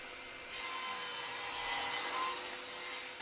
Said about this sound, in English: a quick trim of that tenon on the bandsaw so I can try it out